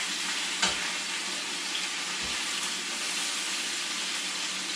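Chicken adobo pieces sear in a hot pan, their skin browning, with a steady, even sizzle and crackle running throughout and two brief soft knocks near the start.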